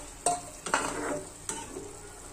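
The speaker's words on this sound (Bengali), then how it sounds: "ঝোলটা ফুটছে, তো তার মধ্যে মাছটা দিয়ে দিচ্ছি।" Fish going into a boiling curry broth for a yogurt-style katla dish: a sharp splash and clatter, then a swell of bubbling and stirring noise that settles into a steady simmer, close up and without speech.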